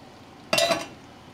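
Kale and cannellini beans being mixed in tomato sauce in a pan, heard as one short burst of wet scraping and stirring lasting about a quarter second against a quiet background.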